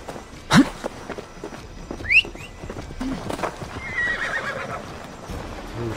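Horse in Assassin's Creed Valhalla giving a short neigh and a rising whinny, with soft hoof clip-clops and ambient game sounds beneath, no talk.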